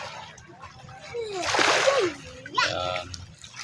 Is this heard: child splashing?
yes